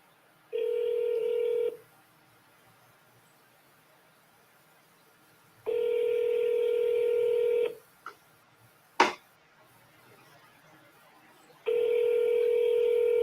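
Three bursts of telephone keypad dialing tones, each a steady beeping run lasting one to two seconds, separated by quiet gaps with a couple of short clicks between them.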